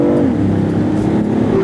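BMW i8 hybrid sports car gives a loud, close, synthetic-sounding engine drone with a low steady hum and slight pitch shifts, briefly and without talk.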